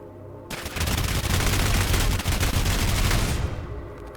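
A magazine is emptied at training dummies in the shooter game SULFUR: one continuous, rapid burst of loud gunfire lasting about three seconds, starting and stopping abruptly, with no voices.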